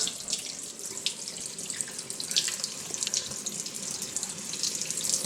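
Hot water pours steadily from a tap into a sink, a continuous hissing splash with no voices, fairly close and even throughout.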